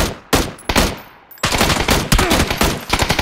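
Gunshots in a video game, loud rapid bursts of automatic fire separated by short pauses, close and dominant with no talk over them.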